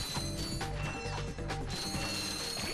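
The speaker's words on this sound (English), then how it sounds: "Those bolts, so beautiful. Feels so good collecting these bolts." Bolts being collected in Ratchet & Clank HD give a busy run of quick metallic clicking and ratcheting pickups, dense and close over game sounds, with no talking.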